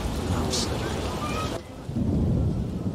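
Steady rain pouring with a low rumble of thunder in a stormy scene from The Witcher 1 video game, dense and continuous hiss throughout with a deeper roll building near the end.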